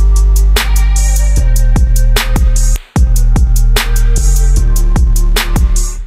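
Opening hip-hop beat of a song produced in FL Studio, loud and continuous with booming sub bass notes, a steady rapid hi-hat pattern and regular kicks, briefly cutting out near the middle before resuming, with no voices.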